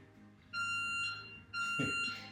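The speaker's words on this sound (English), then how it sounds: "The beep still goes" A high electronic workout-timer tone beeps twice in a row, each one sustained for about a second and fairly loud over a quiet room, with a soft thud during the second beep.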